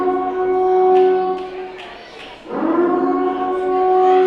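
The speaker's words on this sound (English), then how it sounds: "Is that an air raid siren?" A long wailing siren holds a steady tone, dips, then swells again with rising pitch, loud and sustained.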